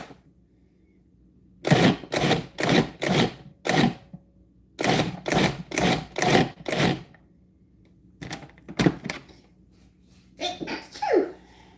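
A food processor pulsing herbs into a coarse pesto: several short bursts of whirring blade, grouped in runs of three to five with gaps between, close and loud, with brief talk near the end.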